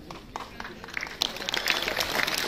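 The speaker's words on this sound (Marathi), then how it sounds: "तुम्ही स्वतःसाठी टाळ्या वाजवल्या" An audience claps at an event, a dense patter of applause swelling toward the end, with a voice speaking over it.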